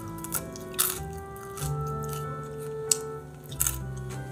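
Crispy french fries cooked in a Philips air fryer are bitten in a few crunchy bites, close and distinct, over a quiet background of steady tonal music.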